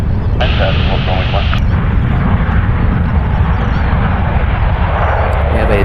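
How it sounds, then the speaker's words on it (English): An Aeromexico airliner touches down at San Francisco International Airport, producing a loud, steady engine and rushing roar that fills the whole stretch from start to finish. "Air Mexico just touched down"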